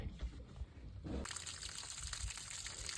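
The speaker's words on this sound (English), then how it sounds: "The garden hose is running and water's flowing through there just like it should." Water from a garden hose runs through an inboard boat engine during winterizing, a steady rushing, trickling flow that grows louder and fuller partway through and then holds constant, close by.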